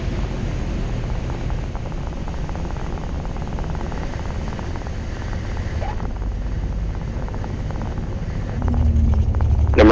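A Cessna 205 light propeller plane lands on a runway, its engine and wind forming a steady, fairly loud drone that swells slightly near the end.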